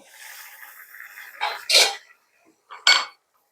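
A pot lid is lifted off simmering potatoes and carrots: a soft steamy hiss, then two short, close metallic clatters of the lid, with quiet gaps between them.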